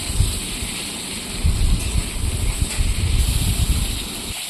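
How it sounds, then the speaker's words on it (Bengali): Potatoes fry in hot oil in a wok for a vegetable dish with note greens, giving a steady close sizzle with a crackling hiss and occasional louder bubbling bursts and stirring rustles. "আলুগুলো ভালো করে লাল লাল করে একটু ভেজে নেব।"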